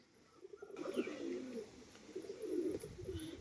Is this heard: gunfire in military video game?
no